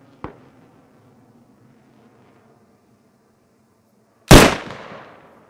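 A single sharp rifle shot in Squad, a tactical military FPS game, bursts out loud and close after a few quiet seconds and a faint earlier pop, ringing off briefly.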